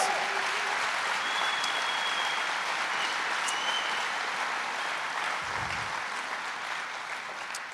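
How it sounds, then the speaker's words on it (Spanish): An audience at a church sermon claps in sustained, moderately quiet applause that holds steady and slowly fades toward the end, with a faint murmur of voices underneath. "Vamos, denle un aplauso a Dios."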